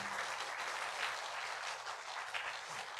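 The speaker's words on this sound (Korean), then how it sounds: "큰 박수로 맞이해 주시기 바랍니다." Applause welcoming the university president and faculty at a new-student orientation ceremony, a steady, even wash of clapping from a seated audience heard alone throughout.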